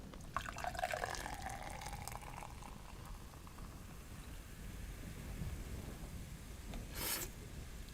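Steady rain from a storm patters and hisses outside a cabin in the video game Enshrouded, a dense wash of drops heard from indoors with a brief brighter splash near the end, no talk.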